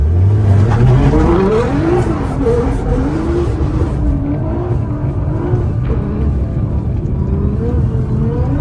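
An all-wheel-drive performance car accelerates hard from a race start on ice, climbing through gears, its pitch rising in stepped surges, loud and close, then settling into a steady drone.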